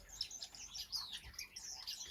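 A male star finch sings in an indoor birdroom aviary, a quiet run of high, thin chirps and twittering notes repeating over about two seconds.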